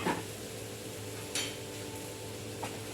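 Stir-fried bitter melon being moved from pan to plate, with a few sharp clinks of utensil on cookware and dish standing out near the start, middle and end over a steady low kitchen hum.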